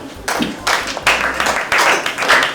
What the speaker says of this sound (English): recognize and clap for them